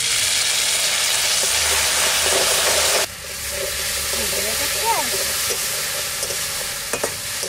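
Ginger and dried chilli paste hits hot mustard oil in a wok, setting off a loud, close sizzle that drops sharply after a few seconds. A quieter, steady frying follows, with light stirring scrapes.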